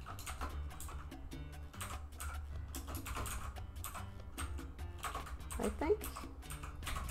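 Quick bursts of typing on a computer keyboard, close-up clicks in irregular runs, with a person talking briefly over them.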